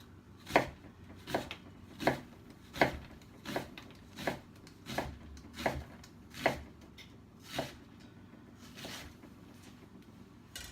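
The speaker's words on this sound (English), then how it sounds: "So you want to do a few good slices of that to go in with your peppers" A knife chops through onions in a series of about a dozen sharp, evenly spaced thuds on a cutting board, each slice cutting into the onion with a crisp crunch, close and clear with no talking.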